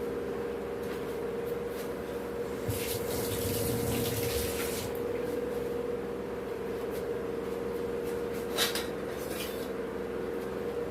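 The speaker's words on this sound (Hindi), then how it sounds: "हाथ धो दूँ मैं" Hands are washed under a running kitchen tap, a steady close rush of water with a faint hum beneath and occasional splashes, with no talk.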